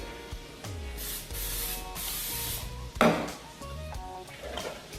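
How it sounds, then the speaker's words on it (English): A hiss of non-stick cooking spray bursts out briefly onto a waffle iron, followed by a sharp clatter, with background hum and a faint musical tone throughout. "tonight, we just use this non-stick spray"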